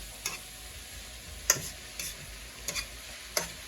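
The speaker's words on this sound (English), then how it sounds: "Okay, my greens are sauteing down." Collard greens sauteing in a skillet, a quiet low sizzle punctuated by several sharp utensil clicks and stirs against the pan at irregular intervals, with no talking.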